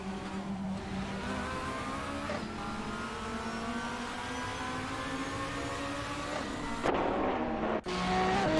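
Race cars in a Gran Turismo video game race, including an Ascari, produce a continuous high-revving engine drone with steady harmonic whine, a brief gear-shift dip near the end, then renewed acceleration.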